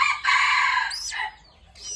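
A 45-day-old jungle fowl rooster crows close by in a farm coop, giving one loud, drawn-out call that breaks into a rising, strained ending and is followed by a brief quieter cry.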